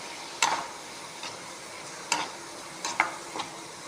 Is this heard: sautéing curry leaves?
yes